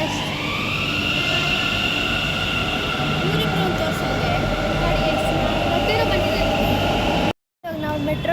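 A metro train at a station in a loud, steady rumble with rising tonal whine and squeal, running continuously until an abrupt brief cutoff near the end.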